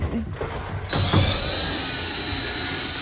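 Screws being backed out of a side panel on a 2009 Toyota Coaster bus, a short mechanical whir and ratcheting close up, followed by a steady tool hum with a thin whine.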